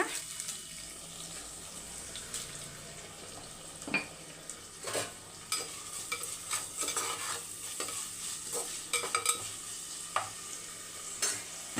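Crushed shallots and garlic sautéing in a pan with salt, a soft steady sizzle under irregular stirring scrapes and taps that grow busier toward the end, close and fairly quiet with no voices.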